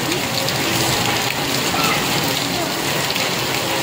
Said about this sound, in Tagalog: Lakas nga ng ulan eh